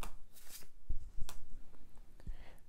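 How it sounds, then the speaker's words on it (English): Cards for the board game The King's Abbey are shuffled and dealt at close range, with soft papery riffles, flicks and a few light taps against the table. "The players shuffle the crusade cards"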